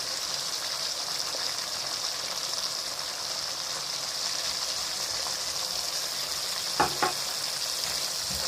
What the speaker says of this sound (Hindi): और इसको अच्छे से इस मसाले को 3 से 4 मिनट के लिए हम भूनेंगे।